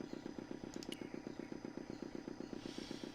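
A small motor in the Broken Sword 2 adventure game chugs in a fast, even rhythm, faint and steady throughout with no other sounds.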